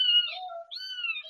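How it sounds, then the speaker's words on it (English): A pet crow gives a string of loud, close, harsh calls with a short break in the middle, with no voices over it. "Such a noisy crow."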